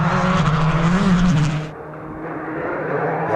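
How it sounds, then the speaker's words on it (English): A Subaru S11 rally car on a mountain stage of the 2013 Tour of the Sperrins roars past at full throttle, its loud engine note rising, then dropping away abruptly as it recedes. "Donagh Kelly in his S11 Subaru is next to traverse the PPP Group Sole Mountain test"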